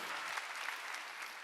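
A church congregation claps together during a Sunday worship service, a dense, even patter of many hands, heard briefly and fairly faint in a large room.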